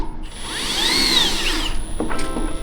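A power drill drives a screw into steel deck framing, a loud continuous whine rising and falling in pitch as the screw sinks, then it cuts off and a few softer clicks follow close by.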